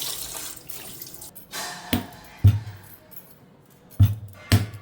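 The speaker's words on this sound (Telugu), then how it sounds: "ఇలా పంపులో పెట్టుకొని ఒకటికి రెండు సార్లు నీట్గా కడుక్కోవాలి" Wild vegetables are washed under a running water tap, with splashing water and a few sharp knocks and drips standing out against the steady flow, close by.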